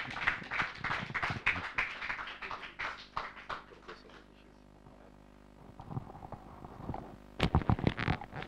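A church congregation claps and applauds in a dense, rhythmic burst that fades into a quiet lull, then picks up again in a sharp, louder flurry near the end.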